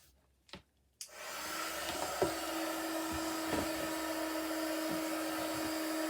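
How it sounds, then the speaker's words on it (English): An electric heat tool for embossing powder clicks on and settles into a steady, close blowing whir with a constant hum, after a couple of short knocks. "I'm just going to switch on my heat tool."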